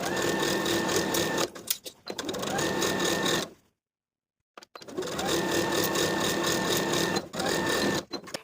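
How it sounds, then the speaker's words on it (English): A sewing machine stitches close to the folded hem of a jumpsuit's pant leg in two long, steady bursts, loud and near, broken by a short silent pause in the middle. "we're going to sew close to the inner folded edge all the way around"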